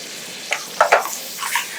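A pan sizzles steadily while sun-dried tomato bits are deglazed and stirred, with a few sharper scraping and spattering bursts over a constant hiss, close and loud.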